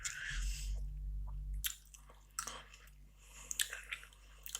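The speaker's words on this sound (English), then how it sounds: "I'm just going to get another chewing gum because my chewing gum's a bit going soft." Soft gum chewing close to the ear, with wet squishy bites and clicks in an irregular rhythm, alone and quiet in an intimate ASMR setting.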